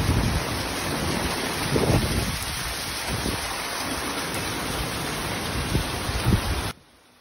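Heavy rain falls on garden rain barrels in a backyard vegetable garden, a dense steady roar with patters close by that cuts off abruptly near the end.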